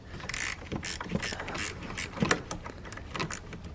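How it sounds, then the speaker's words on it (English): A ratchet wrench clicks in quick repeated bursts, loosening the 10 mm bolt on the negative battery terminal of a 2014-2019 Toyota Highlander, close and fairly quiet with short pauses between strokes and no talk. "So to start with, we'll undo the negative, and this is just a size 10"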